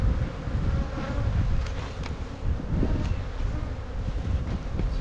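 Honey bees crowd a full hive box being built up for almond pollination, a thick low hum, close and continuous, with a little wind rumble and no talk.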